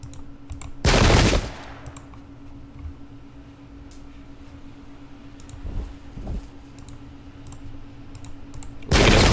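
Musket units opening fire in the strategy game Pike and Shot, two loud sharp volleys of gunfire separated by quiet stretches with faint clicks and a low steady hum.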